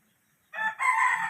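A chicken on a farm gives a short, close-up burst of clucking and a brief crowing call, loud against an otherwise quiet background.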